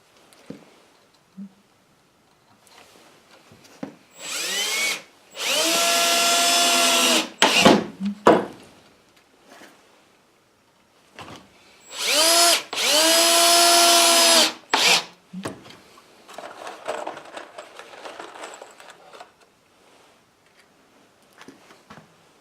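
A power drill drives 1.5 inch drywall screws into wood, two loud sustained whirring runs that rise in pitch and stop abruptly, separated by quiet handling clicks and rustles.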